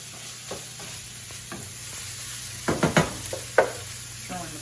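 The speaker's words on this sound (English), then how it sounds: "Give this another little quick stir." Coleslaw mix for egg roll in a bowl being stirred in a hot pan, a faint continuous sizzle with a few quiet scrapes early, then a cluster of louder scraping stirs near the end.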